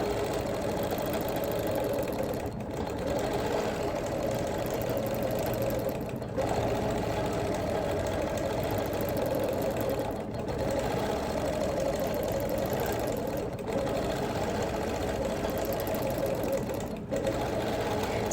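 Long-arm quilting machine stitching a quilt, a fast steady mechanical whirring hum with a rapid needle rhythm, loud and close, broken by a few brief pauses as the stitching stops and restarts.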